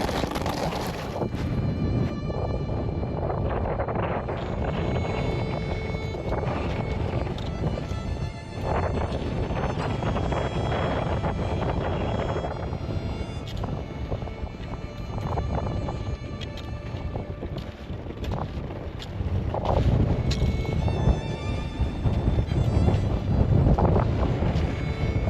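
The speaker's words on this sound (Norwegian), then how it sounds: "Plutselig tar vinden tak. Den så kraftig at den kaster pulken over ende." Strong gusts of wind blast across an open mountain plateau, roaring and buffeting the microphone in a loud, continuous rush that swells and falls over the stretch without any voices.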